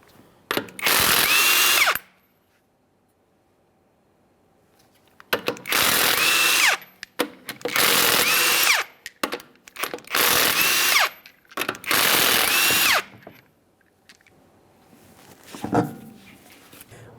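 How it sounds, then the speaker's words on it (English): Power tool spinning off 22mm lug nuts from the rear wheel of a 2007-2013 Acura MDX, five loud whirring bursts of about a second or two each separated by quiet pauses, close up with no talk. "We'll continue on to removing all 5 of our 22mm lug nuts and then the wheel."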